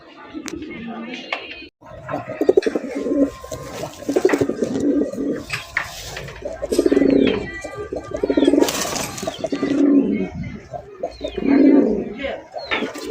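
Repeated low, throaty cooing from several pigeons of a Bangladeshi fancy breed close by, rising and falling in bursts with a few faint chirps between.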